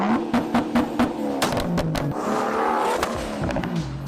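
A modified car's engine revving loudly and close, a series of sharp throttle blips followed by a sustained rising rev with a raspy exhaust note.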